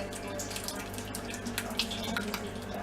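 Homemade tomato sauce pouring from one pot into another in a home kitchen, a steady liquid splashing and trickling with a few brief spatters, fairly close and moderately loud, with no talk over it.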